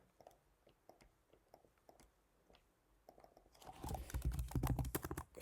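Text is typed on a computer keyboard while editing a web page, quiet scattered key clicks at first, then a faster, louder run of close keystrokes near the end.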